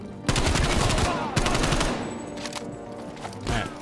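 Rapid automatic gunfire in a Black Ops Cold War firefight, loud sustained bursts of close rifle fire broken by short pauses, a new burst starting near the end.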